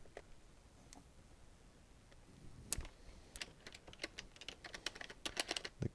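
Keys on a Logitech K480 Bluetooth keyboard clatter in quick, irregular clicks, sparse at first then a denser burst of typing, close and fairly quiet.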